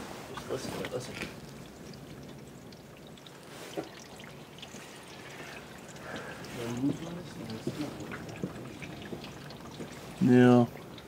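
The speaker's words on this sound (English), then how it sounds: "It's running water. It's flowing in, that's for sure." Flood water runs and flows in steadily during a blizzard at the Scituate Sand Hills in 2010, a continuous rushing pour under the storm, with brief murmurs of people talking close by.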